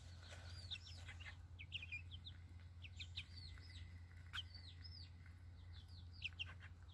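Chickens on a farm cluck and chirp in short repeated calls over a steady low hum, fairly faint and without any talk.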